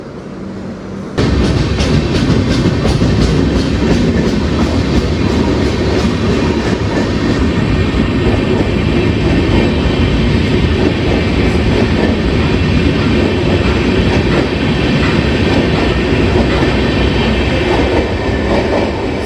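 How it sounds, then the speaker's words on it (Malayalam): Mangalore–Thiruvananthapuram Express rolls past at close range, a loud, steady roar of wheels and carriages with rhythmic clatter that keeps on throughout without a break. "ഇന്ന് മംഗലാപുരം തിരുവനന്തപുരം എക്സ്പ്രസ് ആയിട്ട് പോകുന്നത് കേട്ടോ"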